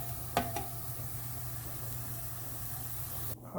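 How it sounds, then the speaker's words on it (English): Butter clarifying in a pan gives off a steady, close sizzle with a few stirring clicks early on, continuous and fairly quiet throughout. "So you can hear the sizzling."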